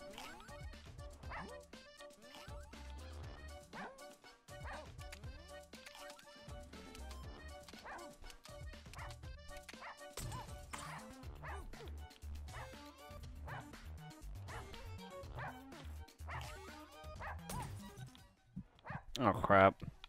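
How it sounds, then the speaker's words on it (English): Dogs bark and yip in short, rapid bursts on a Russian subway, close and insistent for the whole stretch, with a few brief pauses. A person talks now and then among the barks. "Damn dog."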